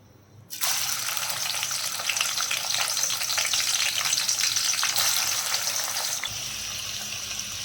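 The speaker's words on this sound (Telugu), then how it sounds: "ఒక గిన్నెలో నూనె పోసి మనం ఆనియన్స్ని బిర్యానీకి ఎలా ఫ్రై చేసుకుంటామో అలా రెడ్ కలర్ వచ్చేదాకా ఫ్రై చేసుకోవాలి" Loud, steady sizzling of onions frying in hot oil until red begins abruptly and continues close up, crackling evenly, easing slightly toward the end, with no voices.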